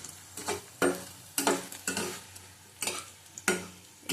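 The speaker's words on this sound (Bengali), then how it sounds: "দেখো, উচ্ছেটা ভাজা হয়ে গেছে আমাদের।" Bitter gourd frying in a pan: a soft sizzle underneath repeated scraping and stirring strokes, sharp and irregular.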